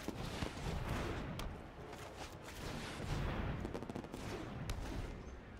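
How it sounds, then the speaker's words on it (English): Inventor's Fair fireworks effect in the MTG Arena card game: a fairly faint, continuous crackle of rapid small bursts and pops, like distant festive fireworks, running throughout with no voices. "Got the fireworks from the Inventor's Fair in the background."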